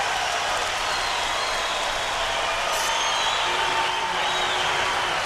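Steady, dense crowd noise at a boxing match between Ali and Frazier, a continuous far-off roar of cheering that holds even throughout with no talk over it.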